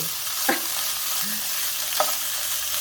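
Impossible plant-based ground meat fries in a pan with a steady, hissing sizzle, while a utensil scrapes and stirs through it in a couple of brief strokes, close and moderately quiet.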